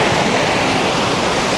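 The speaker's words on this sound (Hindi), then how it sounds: "यहाँ से खतरनाक झरने बन रहे हैं" Water rushing down a steep forested mountain slope in Pauri Garhwal, pouring in dangerous waterfall-like torrents. A steady, dense roar holds the whole stretch, loud and close, with no voices over it.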